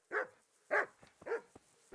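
Dogs barking in the video game Kingdom Come Deliverance, three gruff barks spaced evenly apart, moderately close, with no talking.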